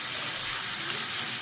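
Chopped onion frying in a pan on high flame for a vegetable side dish, a dense, even sizzle of hot oil filling the short moment without pause.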